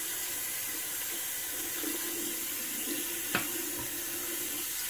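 Tap water runs steadily into a sink for a rinse during a shave, a continuous close hiss with one brief knock partway through and no talking.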